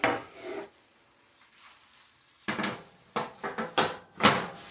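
A metal rack clanks onto a kitchen stove in a few sharp, close knocks and rattles, with a brief scrape at the start and quiet gaps between.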